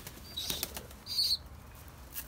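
Young breeding pigeons in a coop, a few quick bursts of wing flapping, close and fairly faint, with a faint chirp in a quiet room.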